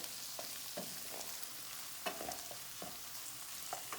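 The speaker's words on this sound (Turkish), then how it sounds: "Soğanlarımız yeterince kavruldu." Onions fry in a pan for cabbage rolls, a faint steady sizzle close by with occasional soft stirring scrapes and taps, and no voices.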